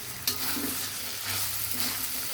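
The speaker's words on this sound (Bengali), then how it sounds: "ভাজা জিরার গুঁড়া দিয়ে আবারও একটু ভালোভাবে নেড়ে চেড়ে নিব।" Chickpeas fry in a pan with roasted cumin powder as a spoon stirs them, a steady close sizzle broken by scraping strokes and one sharp knock near the start, with no voices.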